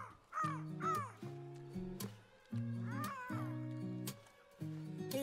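Harsh, cawing calls from a bird in the video game I Am Fish, repeated in bursts with short pauses between them, loud and close with no talk.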